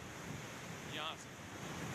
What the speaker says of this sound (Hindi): तो आप देखिए ये गंगा नदी है टिहरी में, वहाँ कितनी रफ्तार से लहरें जो हैं नज़र आ रही हैं